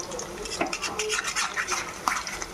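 Coated chicken pakodi are turned in hot frying oil with a utensil, giving light scraping and clinking taps over a soft bubbling fry, close by and irregular.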